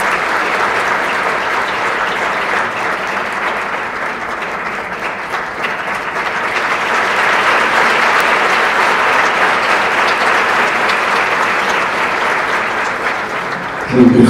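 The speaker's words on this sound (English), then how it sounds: "A round of applause for this very special moment" Sustained audience applause at a symposium opening, a broad wash of many hands clapping that swells slightly midway and carries on for over ten seconds before a brief louder sound at the end.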